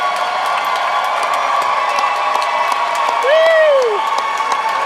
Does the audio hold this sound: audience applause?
yes